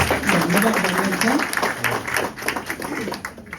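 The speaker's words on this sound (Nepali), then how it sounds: "सबैले एकपल्ट जोरदार ताली बजाएर धन्यवाद भन्नुहुन्छ" An audience at a spiritual fellowship gathering in Singtam claps steadily, a moderate patter of many hands that runs throughout, mixed with crowd noise and a voice.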